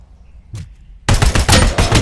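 Gunfire in RoboCop: Rogue City, a faint shot early on, then a loud, sustained burst of rapid automatic shots that continues to the end.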